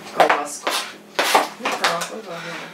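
Kitchen knife chopping salad ingredients and sausage on a cutting board while preparing New Year salads, giving a series of close, crisp knocks mixed with dish clatter, with voices speaking around the cuts.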